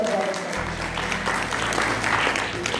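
Applause from an audience at a social welfare honours event in New Maharashtra Sadan, a steady dense wash of clapping running the whole time with a low hum and some voices mixed in.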